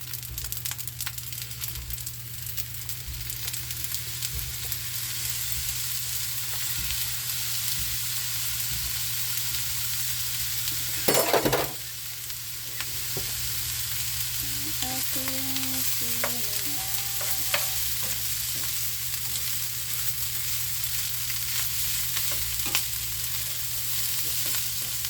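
Fried rice (sinangag) sizzles steadily in a pan while a utensil stirs and scrapes through it, with a low constant hum underneath and one brief louder clatter midway.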